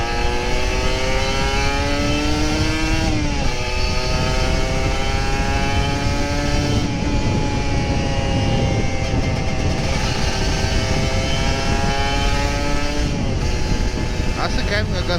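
Kawasaki Ninja RR 150 motorcycle on a morning ride, its engine revving up through rising pitch sweeps again and again, loud and close over steady wind and road rumble.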